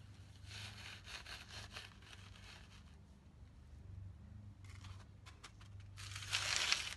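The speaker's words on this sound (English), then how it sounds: "and then I'm going to put the rest of the cement around it." Gritty scraping and rubbing of wet cement being packed around a PVC pipe in a bucket, in irregular bursts of shoveling and smoothing, close and moderately quiet.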